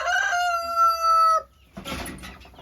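A rooster crows loudly and close in a chicken coop with hens, one long sustained call, followed by a short burst of clucking.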